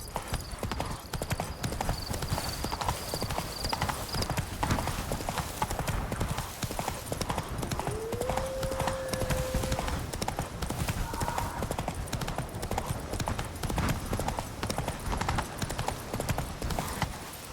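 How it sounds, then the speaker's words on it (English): A horse galloping in The Witcher 3 video game, steady rapid hoofbeats throughout with game ambience, a brief whinny-like tone in the middle and a voice speaking briefly. "Run, Roach."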